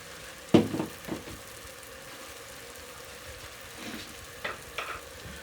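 Turnip frying in a pan with salt and turmeric, a soft steady sizzle broken by a few louder stirring clatters near the start and scattered scrapes later, with no one talking.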